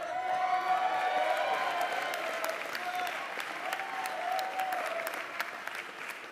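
An audience at a University of the Arts commencement cheers and applauds, a steady patter of clapping with scattered whoops, moderately distant, while a voice speaks faintly over it.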